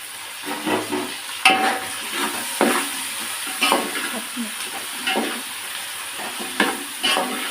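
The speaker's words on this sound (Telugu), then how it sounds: "టమాటా మగ్గిన తర్వాత దీంట్లో బెండకాయ వేసుకోవాలి." Okra frying in a pan with softened tomatoes, a steady close sizzle broken by repeated stirring scrapes of a spatula against the pan, with no talking.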